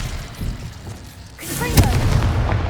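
In Hogwarts Legacy on PS5, a swelling rumble leads into a single sharp, booming burst as the Incendio fire spell is cast, followed by a crackling roar.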